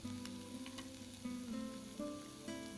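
Crushed garlic, roughly smashed rather than pasted, drops into a hot pan already holding ginger, giving a steady close sizzle with small swells as it is stirred, and no voices.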